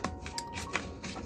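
Tarot cards are shuffled by hand nearby in a quick burst of soft, papery riffling and flicking lasting about a second, with no voice over it.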